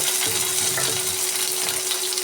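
Onion, ginger, curry leaves and green chillies sizzle steadily in hot oil for a ginger curd curry, a close, continuous frying hiss with faint stirring scrapes.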